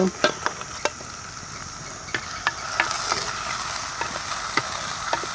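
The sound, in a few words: onion and garlic frying and being stirred in a pan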